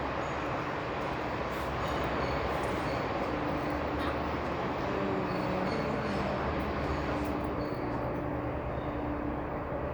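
Steady rumble and rolling of a westbound streetcar at a Toronto station platform, a continuous, fairly loud drone of wheels and motor lasting throughout, with faint talk in the background.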